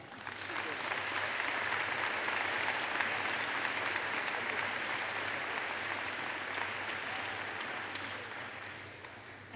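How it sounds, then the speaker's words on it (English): A graduation audience at a 2005 high school ceremony applauds the students' parents, a dense, steady wash of clapping from a large crowd that fills the hall evenly, with a faint low hum underneath. "would you join me in thanking your parents with a round of applause?"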